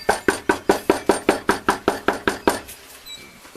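Knuckles rap on a house door in a quick, even run of about a dozen loud, close knocks, then stop into quiet, with no talking.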